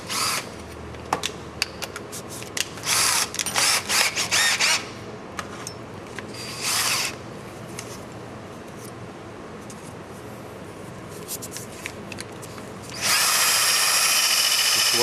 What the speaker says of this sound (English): And then we'll just put that into the cordless drill.